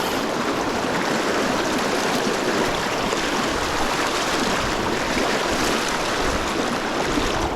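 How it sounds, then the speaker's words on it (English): A torrential river current rushes in a constant, loud, broadband roar during a fly fishing outing, steady throughout with no voices. "Why does it have to be while I'm in the middle of this torrential current?"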